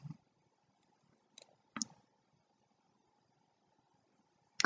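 A computer mouse clicks in mapping software, giving a few sharp, faint, close clicks spaced unevenly over several seconds in a quiet room.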